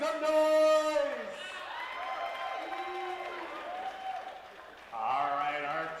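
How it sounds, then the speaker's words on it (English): A crowd at a Toronto Premier League match between Madawaska Madness and Soul Machine cheers and whoops for the teams. A loud burst opens the clip, noise continues in the middle, and a second surge comes near the end. "If you're cheering for Soul Machine, let's hear you make some noise!"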